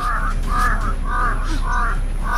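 A crow caws repeatedly, about five harsh calls in a steady rhythm, fairly close and loud over a low background hum.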